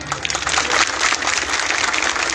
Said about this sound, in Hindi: 2 जोरदार ताली बजाएं